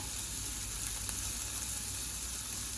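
Sliced radish sizzles steadily in a hot pan, a continuous bright hiss of frying with faint crackles and no talking.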